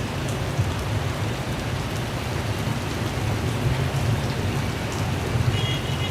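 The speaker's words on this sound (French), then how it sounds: "je pense que ça va être juste une petite averse comme tout à l'heure" Heavy rain pouring down during a shower in a city, a dense, loud, unbroken hiss of drops striking surfaces close by, with no voices heard.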